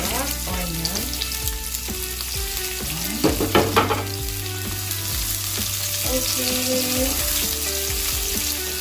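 Onion frying in a pan, a steady close sizzle with occasional stirring clatter, while a voice briefly speaks and a background tune plays.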